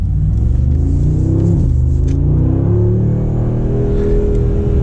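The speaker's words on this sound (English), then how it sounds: "Gratuitous acceleration, and it really pulls with this motor." A Mercedes G63 AMG SUV engine accelerates hard and stays loud throughout, with a deep rumble rising and falling through gear changes and a strong, steady throaty drone.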